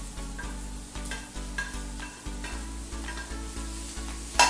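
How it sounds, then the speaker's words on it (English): Bok choy and spring onion sizzle in a hot pan for vegetarian pad thai, a close steady frying hiss punctuated by regular stirring scrapes and taps, with a low hum underneath. "Now I'm going to be adding in our bok choy and our spring onion, which is around 2 cups."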